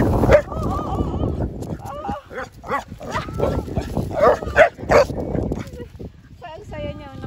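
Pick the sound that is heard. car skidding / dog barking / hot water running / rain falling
dog barking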